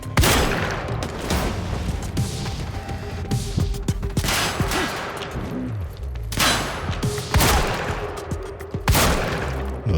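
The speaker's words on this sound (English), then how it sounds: "Let's try out this shotgun." Shotgun blasts in the shooter game Quantum Break, several loud booming shots spaced a second or two apart over continuous combat noise.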